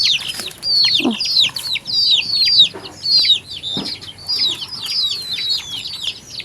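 Pet hen with ten chicks in a coop at morning feeding time, clucking and peeping continuously in busy overlapping calls, close and moderately loud, with a few low soft thuds.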